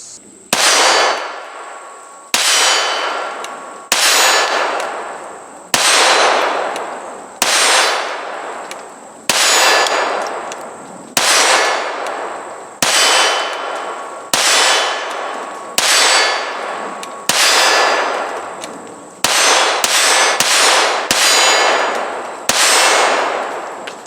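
A KelTec P17 .22 pistol fires unsuppressed outdoors, about fourteen sharp, ringing shots, each with a short decaying tail, evenly spaced at first and then coming faster near the end.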